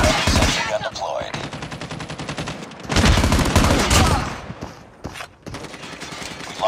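Loud rapid gunfire and sentry gun fire in a Call of Duty video game match, dense bursts that surge, dip and return, close and continuous with brief pauses near the end.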